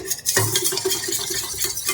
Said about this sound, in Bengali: দইটা ভালো করে ফেটিয়ে নেবেন